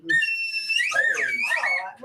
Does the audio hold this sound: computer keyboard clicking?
no